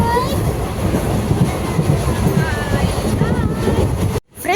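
The 16721 Madurai Intercity Express, running from Coimbatore toward Madurai, gives a loud, steady rumble and rattle of wheels on rails as heard from inside the coach. The noise continues without a break, then drops out briefly near the end.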